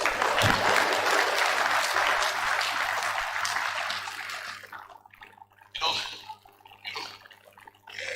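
An audience at a university event in Nigeria applauds: a full burst of clapping that gradually fades over about four seconds, leaving quieter scattered sound and a faint voice.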